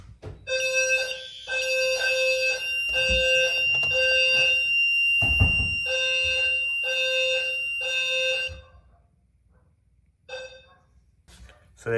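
A home fire alarm system sounds during a pull station test, loud repeating electronic tone bursts in a steady rhythm with a thud in the middle, cutting off and followed by brief quieter beeps.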